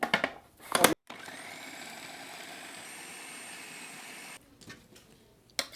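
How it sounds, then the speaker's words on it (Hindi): An electric chopper whirs steadily for about three seconds as it minces green chillies and vegetables, a loud motor drone starting and stopping abruptly, with brief clattering handling noises before and after. "फिर से चॉपर चलाएंगे ताकि ये सब्जियां जो हैं वो अच्छे से बारीक हो जाएं"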